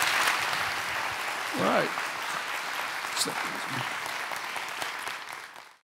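A conference audience at Scottsdale Forward 2017 applauds a panel after its discussion, steady sustained clapping with a brief spoken remark near the start, ending abruptly.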